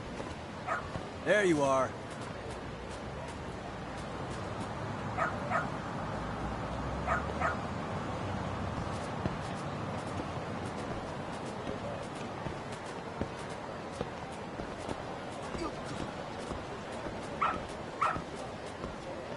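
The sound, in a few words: dog barking and whimpering in Lost Judgment video game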